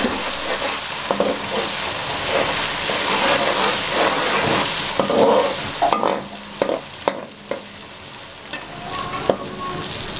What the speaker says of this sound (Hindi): दो चम्मच अदरक लहसुन पीसा हुआ डालेंगे। अच्छे तरीके से फ्राई करेंगे।